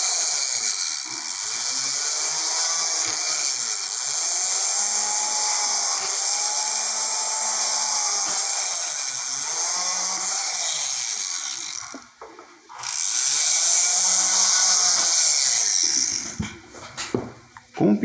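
A small power tool drills holes through an old coin being made into a name pendant. A steady high whine runs close and loud, briefly drops out, then returns before ending in sputtering stops.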